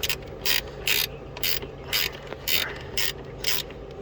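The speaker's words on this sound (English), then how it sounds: "yep, it's a 12 millimeter ratchet" Ratchet tightening a 12 millimeter nut on the brake booster of a 2002 Acura RSX, giving eight short bursts of rapid clicking at a steady half-second rhythm, close and clear with no talk.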